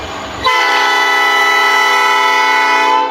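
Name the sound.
train passing with horn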